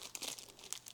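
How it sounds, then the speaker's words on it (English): A plastic nursery pot being peeled off a cutting's root ball, giving a short, faint crinkling and crackling of thin plastic, close up and without speech. "once you get toward the bottom, you can just peel it like that. It'll peel right off."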